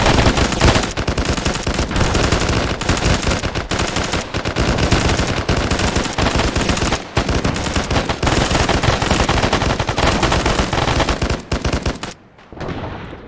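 Sustained, dense automatic gunfire and explosions roar loudly and almost without pause through a video game military operation before cutting off abruptly near the end.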